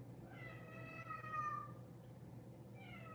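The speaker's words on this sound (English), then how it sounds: "This cat sounds like he's literally dying downstairs" A house cat meows loudly from downstairs in a drawn-out, wailing call, followed by the start of a second meow, with no talk over it.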